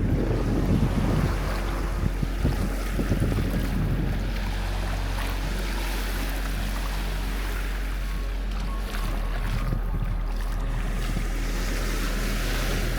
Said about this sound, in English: This is a massive beach.